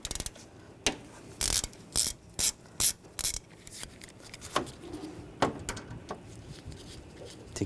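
A socket wrench fitted with a T45 socket ratchets out screws holding the AC lines on a 2009-2017 Volkswagen Tiguan, in several short, close clicking bursts separated by brief pauses and quieter handling noises.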